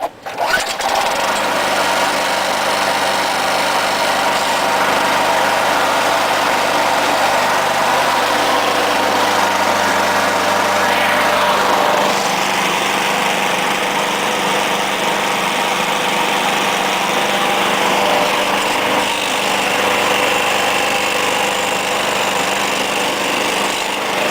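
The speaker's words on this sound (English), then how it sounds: "Yeah, it runs pretty good. I just got done mowing the lawn with it." Small Murray push lawn mower engine running steadily up close for over twenty seconds, a buzzing, sputter-free drone whose pitch shifts slightly midway as the throttle changes.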